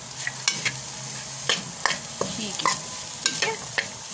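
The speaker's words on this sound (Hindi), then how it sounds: "गाजर को डाल के हम फ्राई करेंगे।" Chopped carrots sizzle and fry in a pan while a utensil stirs them, giving repeated scraping clicks over a steady hiss; a voice briefly speaks.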